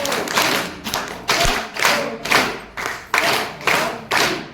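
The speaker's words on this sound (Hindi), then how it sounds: "मेरे साथ तालियां बजाना, 1 2" Group of people clapping hands together in rhythm at an International Women's Day gathering, about nine loud, evenly spaced claps close by, each with a short ringing decay.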